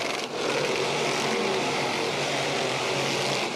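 Dirt track race cars roar steadily down the back straight, a dense, continuous engine drone at a loud, even level with no talk over it.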